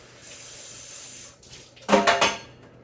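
Water from a kitchen tap runs over a pan being rinsed at the sink, with a soft steady stream at first, then a few louder splashing, clattering bursts as the pan moves under the flow.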